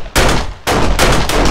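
Pistol shots from the zombie survival game 7 Days to Die crack out loud and close, two or three sharp reports in quick succession with a rumbling tail, no voices.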